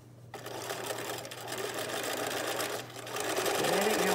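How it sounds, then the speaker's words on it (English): Continuous close whirring of a sewing machine stitching across the end of a fabric face mask, going back and forth and rising slightly in loudness toward the end, heard alone without voices. "I'm going to sew over it on this end"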